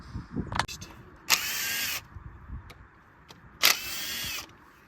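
A power tool removes the ignition coil mounting bolts on a Chevrolet Cruze with a misfire on startup, two close, loud bursts of high whirring roughly two seconds apart, each lasting about half a second, with clicks and clatter between them.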